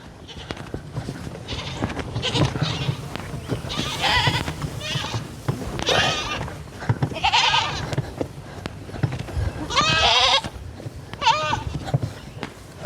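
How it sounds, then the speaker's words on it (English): Nigerian dwarf goats bleat repeatedly nearby, several wavering calls spread across the clip, some loud and close, over faint farmyard background and occasional speech. "I hear a goat."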